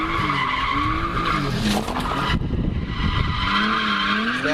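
Tires squeal continuously as a car drifts, a loud, sustained skid with engine roar that swells and wavers in pitch as the slide angle changes, close and unbroken throughout.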